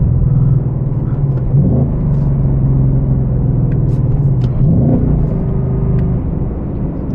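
A 2024 Mustang Dark Horse with a six-speed manual drives with a loud, deep, steady engine rumble from the cabin, broken by two brief dips and rises in pitch as gears change.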